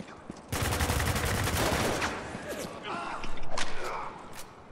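Gunfire in the multiplayer mode of Spec Ops: The Line, a sudden loud burst of rapid automatic shots lasting about two seconds, followed by scattered shots and clicks as players talk.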